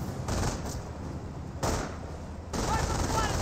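MG42 machine gun firing in Company of Heroes, a couple of short rattling bursts separated by brief pauses, moderately loud beneath a commentator talking.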